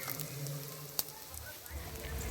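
Onions frying into beresta for fried rice at a rooftop family picnic, a low steady sizzle with one sharp click partway through and a voice talking over it.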